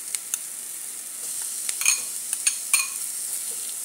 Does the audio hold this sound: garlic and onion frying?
yes